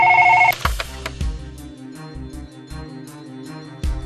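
A telephone rings loudly at the start, then a dull thud follows and a quieter, steady background with occasional knocks carries on.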